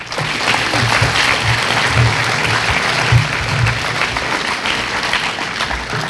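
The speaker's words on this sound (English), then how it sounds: "Class of 2016, give your parents a round of applause." A high school graduation audience applauds the parents, with dense sustained clapping from a large crowd that holds steady for several seconds and fades slightly near the end.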